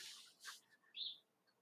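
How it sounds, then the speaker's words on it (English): Birds chirp outside an open window, a few short bright calls and tweets spread over about a second and a half, faint and distant against a quiet room. "I've got the windows open, so you might hear the birds in the background"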